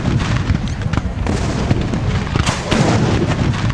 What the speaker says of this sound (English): When General Francis J. Herron's Union cannons opened fire around 10 a.m.,